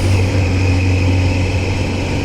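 Car engine running steadily while driving in second gear at around 40, a loud constant drone with a strong low hum and road noise.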